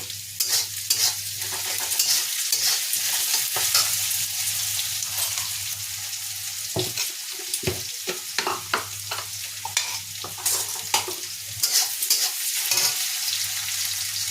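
Potatoes and soybeans sizzle steadily in a hot pan while a spatula stirs and scrapes in repeated bursts, close and fairly loud, with no talking.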